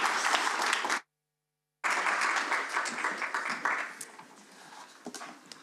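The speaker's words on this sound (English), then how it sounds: "Can I just get a round of applause, please, for Chloe Martin, Jodie Williamson and Dann" An audience at Riddel Hall applauds speakers at a public talk, a full burst of clapping that briefly cuts out, then resumes and gradually thins toward scattered claps.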